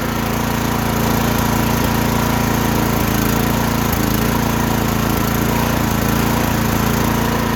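A mini tractor's small engine runs on half choke, a loud, steady mechanical drone with a continuous low hum, holding close and unbroken throughout.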